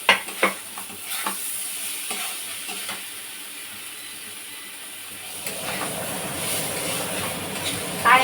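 Eggplant slices frying in a pan, a steady broadband sizzle running throughout, with a few sharp clinks and stirring knocks near the start and a louder, busier stretch of sizzling toward the end.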